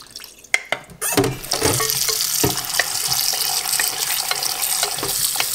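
Running tap water pours steadily while homemade butter is rinsed and worked with a paddle in a bowl, with a few knocks at the start, then continuous splashing and stirring close by.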